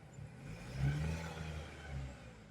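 A Mahindra Thar petrol automatic with a 2.0L engine revs twice, each smooth swell rising and falling back to a calm idle, close by with no talking.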